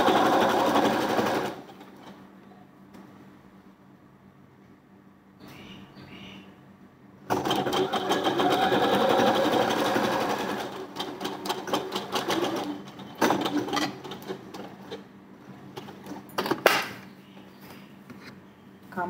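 A sewing machine stitches a blouse, whirring in steady runs with a quieter lull between them and short bursts near the end, close and clear with no talk.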